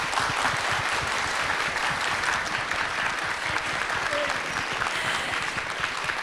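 Continuous applause and cheering from a crowd at a film premiere event for a Kamen Rider movie, dense and even clapping throughout with voices mixed in.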